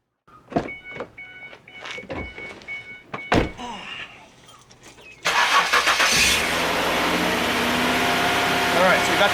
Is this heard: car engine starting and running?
yes